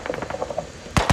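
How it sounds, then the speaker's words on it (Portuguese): Rapid enemy gunfire in a military shooter game during an assault on a command post: a quick burst of muffled shots followed by two louder, closer cracks. "O gajo está a disparar daqui, mano."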